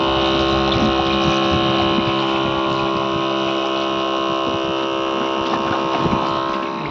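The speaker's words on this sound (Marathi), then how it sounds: "हे बघा, असं मोटर सुरू करून असं ठिबकला औषध डिचिंग करणं सुरू आहे औषधाची" An electric motor pump drones steadily, feeding pesticide through drip irrigation on an okra field; the hum is loud and constant with a tonal whine and faint liquid gurgle, and no one talks.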